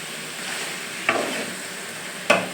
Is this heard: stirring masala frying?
yes